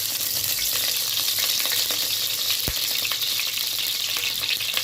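A spoonful of ghee sizzles in a cooking pot, making a steady, bright, continuous crackle with one soft knock partway through.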